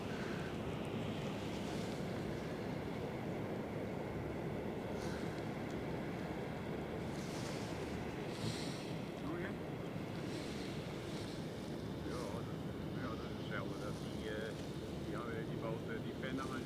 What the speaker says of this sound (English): It sounds like a waterfall.